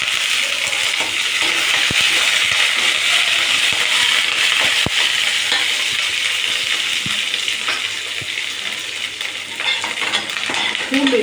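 Curry leaves crackle and sizzle in hot oil with garlic for jeera kulambu, a loud continuous frying hiss close by, broken by occasional sharp clinks of a spoon against the pan, with no talking.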